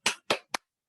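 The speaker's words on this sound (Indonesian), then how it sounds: "Yuk, tepuk semangat." A classroom of pupils doing a rhythmic spirit clap (tepuk semangat), three crisp claps in quick succession, the last one shorter, then silence.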